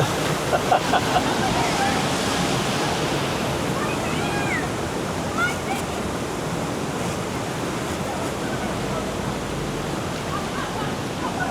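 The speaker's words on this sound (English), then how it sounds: "A few splashes here and there." Water rushing and splashing around a theme park boat ride at Knott's Berry Farm, a steady broadband wash with a few brief bursts, with people's voices and small shouts mixed in under it.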